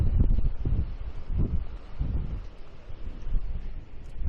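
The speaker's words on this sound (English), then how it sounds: "Super, super windy." Strong wind buffets the microphone in loud, gusting low rumbles that rise and fall throughout, with a faint rustle beneath, on the rocky coast of Rebun Island in Japan's far north.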